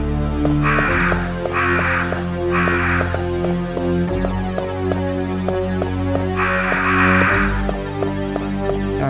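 Crows caw in the Resident Evil video game, four harsh calls in close succession followed by a longer one, over a droning, throbbing ambient soundtrack with regular ticking pulses.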